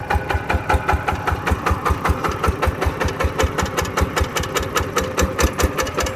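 A sewing machine running steadily on its stand, its fast, even mechanical clatter loud and close, pulsing at a regular rhythm the whole time, with no voices.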